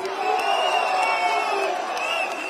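A crowd at a gathering in Islii, Nairobi, with Kenyan President William Ruto present, applauding Honourable Yusuf, a dense steady roar of clapping and cheering with a few whoops, no voice standing out.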